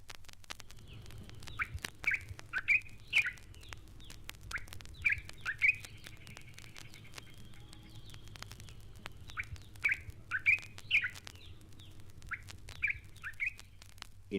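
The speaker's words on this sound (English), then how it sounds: "The black-capped bulbul is a very cheerful, sprightly bird" Black-capped bulbul singing in East African woodland: bright, cheerful chirping phrases repeat in short bursts throughout, moderately close over a low steady background hum.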